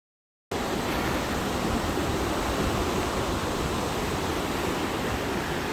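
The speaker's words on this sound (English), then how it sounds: "There's a glacier-fed river" A glacier-fed river rushes steadily along the Rob Roy Glacier track near Wanaka, New Zealand, a loud, constant broadband roar that starts abruptly after a brief silence and continues unbroken with no voices.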